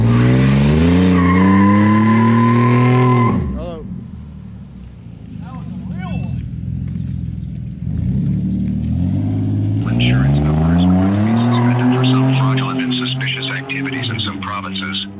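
A car doing a burnout gives a loud, close engine roar and squealing tires that fade, then build again with revving and squeal. A voice speaks in the middle quieter stretch.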